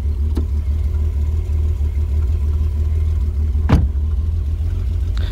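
VW Golf 3 VR6 Turbo engine with an intermittent misfire from faulty ignition leads, idling close by with a steady, loud, low rumble, broken by a couple of sharp clicks and no talk.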